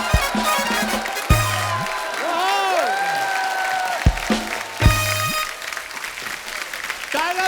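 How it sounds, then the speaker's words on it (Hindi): A TV studio audience applauds as two film-star guests are welcomed onto a comedy talk show, loud continuous clapping and crowd noise running throughout, with a host's voice and bursts of music cutting in over it. "आप सबकी जोरदार तालियों के बीच please welcome mister tiger Shroff and Tara Sutaria."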